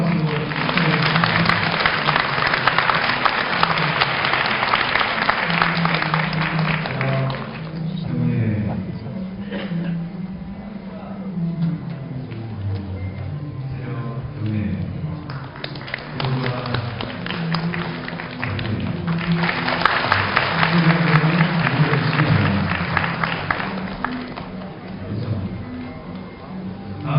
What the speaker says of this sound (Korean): 큰 박수로 축하드립니다.